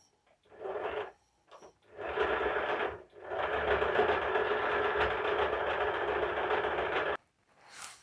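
A sewing machine runs in steady bursts while stitching the shoulder seam of a party-wear long gown with a half-inch margin, with a short start, a brief pause, then one long continuous run of about four seconds, close and fairly loud.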